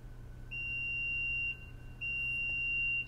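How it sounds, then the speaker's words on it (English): Power tailgate of a 2022 Mitsubishi Outlander giving two steady electronic beeps in a row, clear and moderately loud over faint background hum, confirming a preset opening height. "It beeped twice."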